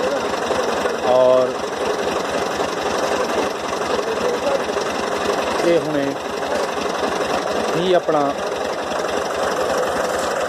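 A tractor engine idles with a wheat thresher attached, a steady rumbling mechanical drone with rhythmic knocking, while someone talks over it.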